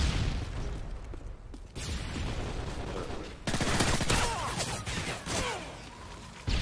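Dense automatic gunfire and explosions from Call of Duty: Modern Warfare 3 in a free-for-all match, loud and close, with sustained bursts and heavy booms and no clear talking.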